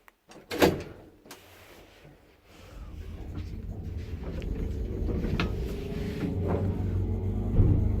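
A heavy 1950s Fiam/Iman traction elevator door clatters at the start, then the elevator motor's steady low mechanical rumble and hum builds and continues, with faint clunks over the drone.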